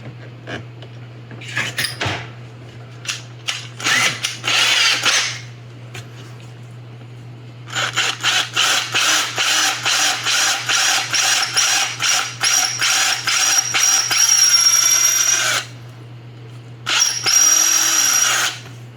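A power drill fitted with a 5/16 bit bores in repeated close bursts, short starts and stops giving way to a long series of rapid pulsing runs, over a constant low background hum with no talking.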